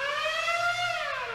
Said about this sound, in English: that's the Lunk Alarm in a nutshell